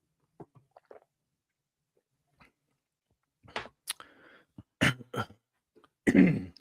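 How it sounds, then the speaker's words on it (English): A man on a sports talk show clears his throat in a few close, rough bursts that grow louder toward the end, after some faint small mouth sounds. "Gotta clear my throat."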